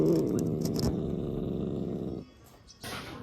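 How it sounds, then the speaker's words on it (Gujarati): A black tomcat caught in a trap cage growls in a low, continuous rumble for about two seconds, close and loud, before it drops off into quieter shuffling and a brief rustle. "તો જો આજે એક કાળો બિલાડો આવી ગયો છે"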